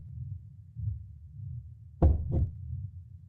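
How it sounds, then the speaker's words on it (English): Heartbeat sound effect: a soft low throb early on, then two louder, sharper thumps close together near the end, like a pounding pulse, heard alone with no voices. "sync with a heartbeat."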